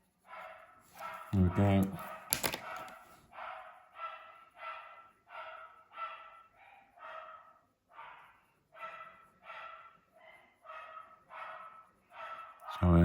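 Several dogs bark repeatedly in a steady series of loud yaps and woofs during a watercolour pen colouring session indoors, with a brief voice and a couple of handling knocks.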